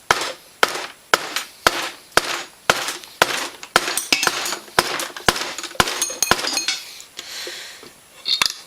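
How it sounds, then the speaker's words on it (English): A rubber hammer strikes metal in a steady series of sharp knocks, about two per second, knocking out a bearing on a Suzuki RM85 engine, then a few irregular clanks and rattles near the end. "We're going to try it with this rubber hammer"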